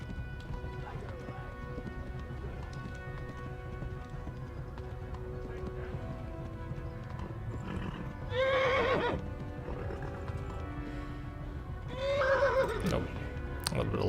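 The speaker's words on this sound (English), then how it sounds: "Come on, horse. You can go." In the medieval game Kingdom Come: Deliverance, a horse's hooves clip-clop at a run beneath ambient game sound, with two loud whinnies breaking through near the middle and near the end.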